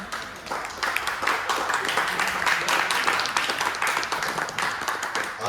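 A theatre audience claps after a stage play ends, with dense, even applause running steadily for several seconds at moderate loudness.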